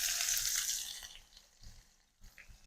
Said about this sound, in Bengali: এবার নেড়েচেড়ে পেঁয়াজটাকে ভেজে নেব